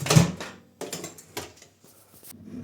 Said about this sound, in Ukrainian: Відкриваємо мікрохвильовку